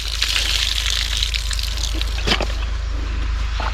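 Children splash and play in water, a continuous wet gushing and dripping close by, with a few small splashes and faint voices in the background.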